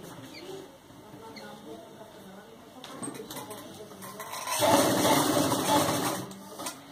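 A sewing machine stitching the crotch seam of a salwar, a quiet whirring run that grows louder and steadier toward the end, with faint background chatter.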